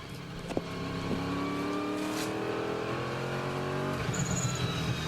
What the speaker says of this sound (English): Second gear through this one, about 65 miles an hour, back on the power, up through the gears.